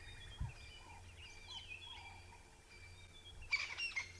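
A grey go-away bird (grey lourie) calls at sunrise with faint, distant repeated nasal notes, then a louder burst of calls near the end over a quiet outdoor background.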